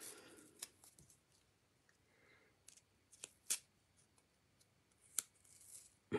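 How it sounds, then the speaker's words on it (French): Scissors snip paper for a handmade stamped card, a few sharp, quiet cuts spaced irregularly against near silence. "On va s'en couper deux autres."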